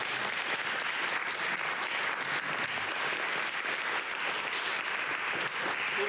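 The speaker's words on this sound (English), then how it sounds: "Let's give her a round of applause." A lecture audience claps in a steady, dense round of applause that holds at an even level from start to finish, with no voices standing out.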